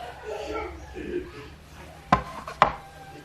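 Pork belly pochero is served out, with two sharp clacks of a utensil against a pot or dish following a stretch of quiet talk in a kitchen.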